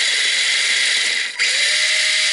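Electric motor of a Tamiya CR-01 RC crawler runs with a steady high whine, cuts out briefly in the middle, then starts again in reverse, close and loud with no voices.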